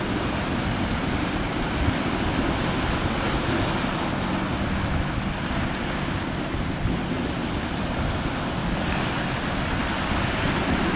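Heavy surf and wind buffet a fishing boat heading out on rough open sea, a continuous loud roar of crashing waves and gusting wind noise against the microphone with no let-up.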